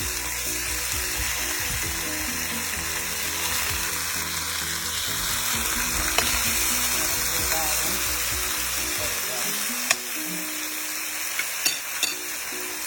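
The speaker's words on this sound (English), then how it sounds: "So it's on a medium heat, and I just add the salmon to the dish" Wild Alaskan sockeye salmon frying in a pan over medium heat, giving a steady broadband sizzle with occasional clinks and bumps from the pan, with background hum dropping away near the end.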